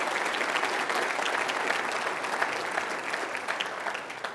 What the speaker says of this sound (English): let's hear a big round of applause for all Burnaby Board of Trade